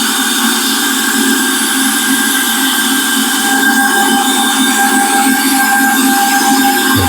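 A bandsaw cuts wood in a workshop, giving a steady, loud, close mechanical whine with a constant hum and airy rush that holds unbroken throughout, with no voices.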